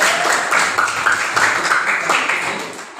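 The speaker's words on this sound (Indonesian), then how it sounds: "tepuk tangan dulu." A classroom of students clapping their hands together, a dense, steady patter of many claps filling the space at moderate loudness for a few seconds without pause.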